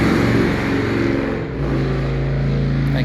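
A passing motorcycle engine drones loudly and steadily nearby, its pitch dipping briefly midway before settling again.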